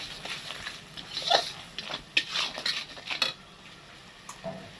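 Ridge gourd pieces tipped into a pan of thin parshe fish curry with potatoes, giving a few clattering clinks of a utensil against the pan and a soft stirring rustle, moderately close with no talking.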